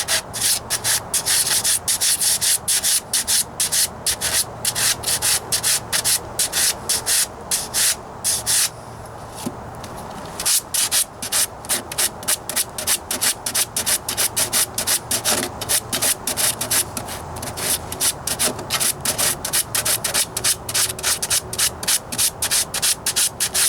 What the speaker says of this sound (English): Even with some old 40 grit, this stuff still works.